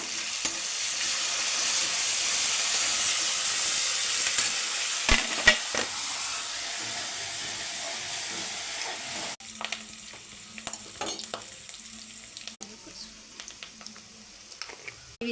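Curry leaves crackle in hot oil as a tempering for bitter gourd powder. The sizzle is loud and steady at first, then fades to a quieter hiss broken by scattered utensil clinks.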